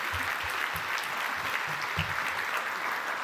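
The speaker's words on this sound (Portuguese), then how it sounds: "Pode aplaudir o Senhor, porque o Senhor ouve as nossas orações" A church congregation claps together in praise during a service, a steady dense wash of applause that holds at even loudness throughout without a break.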